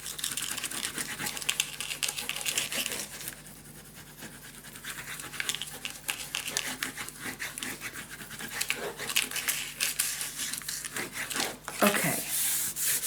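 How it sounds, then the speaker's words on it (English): Paper is burnished down onto a handmade mini album cover with repeated soft rubbing strokes, a faint, close, scratchy swishing in irregular bursts over a quiet background hum. "Burnish it down."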